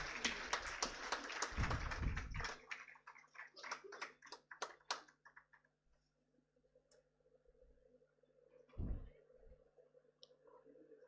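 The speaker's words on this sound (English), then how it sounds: "With a huge round of applause, ladies and gentlemen." Conference audience applause rising loud at the start in a dense patter of claps, thinning into scattered claps over several seconds before trailing off, with a voice briefly speaking near the end.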